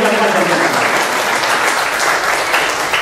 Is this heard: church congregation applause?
yes